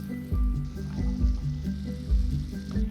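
Pork frying in a pan with white pepper, oyster sauce and black soy sauce, a loud close sizzle with bursts of crackling as the meat is stirred and moved.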